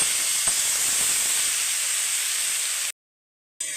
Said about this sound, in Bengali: আরও এক মিনিট এক মিনিট ভেজে নেবে